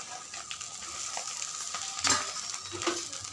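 Torn dosa pieces fry in a pan for kothu dosa while being stirred, a soft steady sizzle broken by light scraping strokes of the spoon and a louder clatter near the end.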